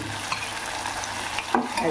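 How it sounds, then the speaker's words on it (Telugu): Chutney paste frying in oil for a kurma keeps up a close, continuous sizzle with light spattering and a brief utensil clink near the end, no voices. "అది బాగా నూనె పైకి తేలేటట్టుగా వేపుకుందాం బాగా"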